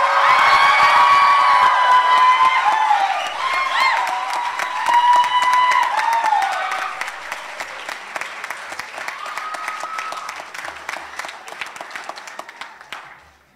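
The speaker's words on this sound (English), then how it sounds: "Let's give them a big round of applause." A big crowd at a 2023 senior high school graduation ceremony applauds and cheers for the graduating class. Loud, dense clapping mixes with whoops and shouts, then slowly thins out toward the end.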